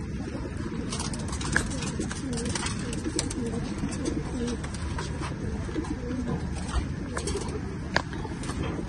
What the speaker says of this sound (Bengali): মাদিগুলো অনেক সুন্দরভাবে বসে রয়েছে